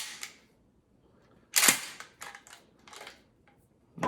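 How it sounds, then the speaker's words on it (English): A pump-action shotgun being unloaded by cycling the action to clear shells from the tube and chamber, heard as a few sharp, loud metallic clacks and racks spaced across a quiet moment, with no talking. "we want our ammo back out of our gun"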